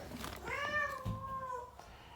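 A cat gives a single drawn-out, falling meow up close, clear and fairly loud in a quiet indoor room.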